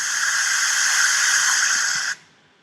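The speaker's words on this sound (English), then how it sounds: "This is what rain sounds like, what you would expect." Steady, dense hiss of rain heard from underwater in the ocean, a continuous wash of noise that cuts off abruptly near the end.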